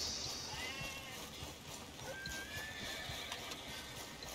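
A horse in Red Dead Redemption 2 whinnies over faint hoofbeats and a busy outdoor ambience, the call rising above a steady low rumble of game sound.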